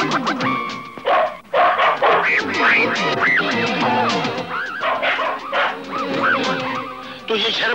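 A man imitates a dog, letting out a loud, rapid run of barks and yelps in a scene from the 1989 Pakistani film Manila Ke Janbaz, with some honking, goose-like calls mixed in.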